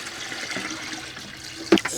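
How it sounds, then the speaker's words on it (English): Stagnant rainwater is poured into a homemade mosquito trap outdoors, a close, steady watery pour and splash running for about two seconds, with a brief louder slosh near the end. "I get a lot of rain, so I just got some stagnant rainwater here."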